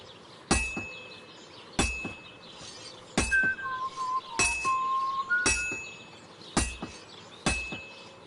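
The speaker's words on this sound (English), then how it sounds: "Now take the hammer and try hitting it a few times." A hammer rings against a sword on an anvil in Kingdom Come Deliverance 2, six bright metallic clangs spaced about a second apart, each with a ringing tail, with soft whistling tones between strikes.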